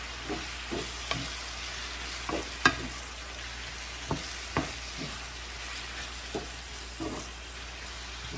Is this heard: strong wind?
no